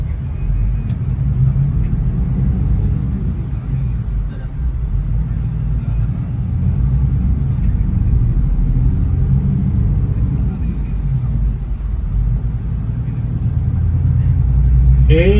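A bare bus chassis rolls along at about 30 km/h, a low, steady engine and road rumble that swells slightly near the end, with someone talking over it.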